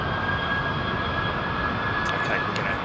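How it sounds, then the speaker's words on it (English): An Emirates Airbus A380 at Heathrow airport spools its jet engines, a continuous, heavy broadband roar that stays loud and steady from start to finish. "cross over to this Emirates 380 turning on. Awesome power"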